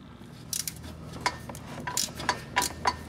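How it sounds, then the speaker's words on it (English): A stubby ratcheting wrench clicks in rapid bursts against a bolt on a 1999 Dodge Dakota 4x4 transmission in a cramped spot, producing light metallic ticking and clanks close up over steady background hum. "Really hard to do with a stubby ratcheting wrench, but honestly, that's all there's room for."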